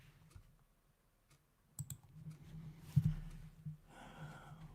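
A few faint, sharp computer mouse clicks sound in a quiet room, followed by soft breathing and small handling noises close by.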